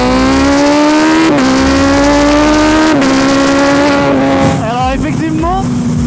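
Suzuki B-King motorcycle engine revving while riding on an open road, a loud close steady drone climbing in pitch with brief dips at gear changes, ending in a few quick rising revs.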